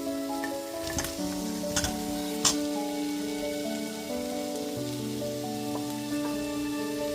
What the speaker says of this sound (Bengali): এর মধ্যে এবার ভেজে রাখা সমস্ত আলুগুলোকে দিয়ে দিচ্ছি